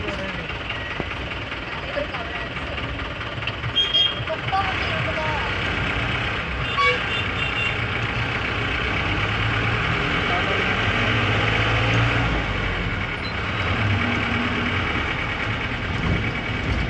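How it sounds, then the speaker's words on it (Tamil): A bus engine rumbles steadily as the vehicle rolls into the temple parking area at Rameswaram, with a few short horn toots and people talking over the traffic noise. "வண்டி இப்படி ஸ்ட்ரைட்டாக போய் லெஃப்ட் கட் பண்ணி உள்ளே போய் பார்க்கிங் போக போகுது."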